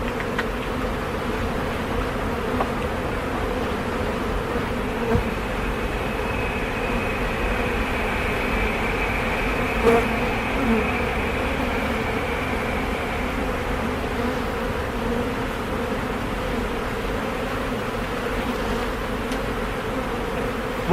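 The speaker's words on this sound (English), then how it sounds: "there's so many bees in here" Honey bees swarm around an open beehive during an inspection, making a dense, steady drone that fills the whole stretch at close range.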